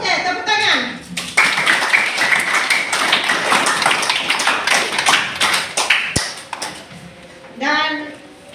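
Children clapping together in a classroom, a burst of fairly close, uneven applause from the class that carries on for several seconds, with a few voices mixed in toward the end.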